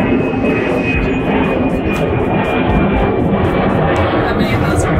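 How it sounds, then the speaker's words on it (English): An airplane passes overhead on a flight path near Portland's PDX airport, a loud, steady broadband roar filling the whole stretch. "Plane going overhead."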